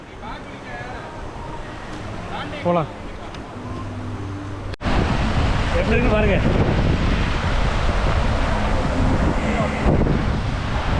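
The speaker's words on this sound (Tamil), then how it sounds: "அப்படியே மேலே இருந்து வந்து தண்ணி அப்படி பள்ளத்தில் இறங்கி அப்படி போகுது" Water pours down from above into a pit at a hidden spot in rainy hill country, a loud, steady rushing roar that swells sharply after a few quieter seconds, with people talking close by throughout.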